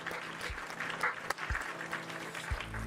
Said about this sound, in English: Round of applause for Frackberg